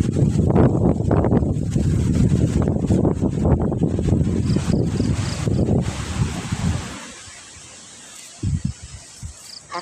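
Strong gusts of wind buffet the microphone with loud, rough roaring, then die down to a quieter hiss with a few thumps.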